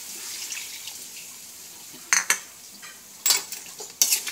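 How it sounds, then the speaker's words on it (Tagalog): A utensil stirs chicken stock into a pan of vegetables with long beans and green chili, soft liquid swishing and scraping punctuated by several sharp clinks against the pan. "Halo ko na itong ating chicken stock"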